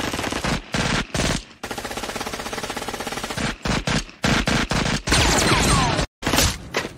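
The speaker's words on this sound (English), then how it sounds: "We need you to investigate possible gunfire at the Waterman building." Loud, rapid bursts of automatic gunfire from an animated TV show crackle in long sustained volleys broken by short silent gaps, close and harsh with no talking.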